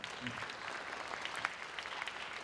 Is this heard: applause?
yes